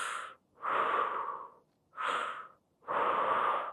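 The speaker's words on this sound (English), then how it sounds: "3 breaths." Slow, deep breaths during a stretching class, alternating inhales and exhales in long, close, quiet whooshes, about four in a row with short pauses between them.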